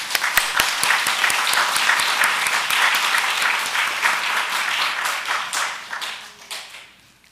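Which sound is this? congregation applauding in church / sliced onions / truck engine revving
congregation applauding in church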